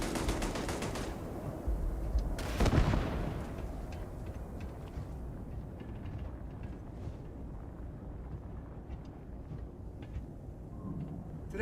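Automated turrets in the video game Starfield open fire in rapid bursts, loudest near the start and then settling into a steady stream of distant, crackling shots over a windy, rumbling background.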